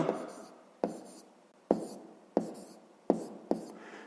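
Pen strokes of numbers being written in a fifth-grade maths exercise, six sharp scratchy onsets each trailing off, close and quiet with no talk.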